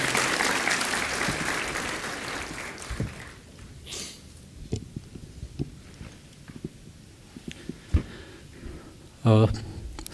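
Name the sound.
audience applause welcoming a guest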